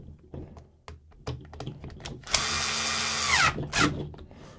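Small power screwdriver driving gearbox screws on a Kyosho SC6 radio-control car, a few light taps and clicks followed by a steady close whirring run of about a second, then a short second burst.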